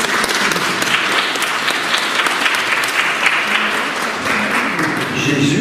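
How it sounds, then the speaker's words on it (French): Church congregation applauding a carpenter, steady dense clapping from a crowd that carries on without pause throughout. "Applaudissez le charpentier."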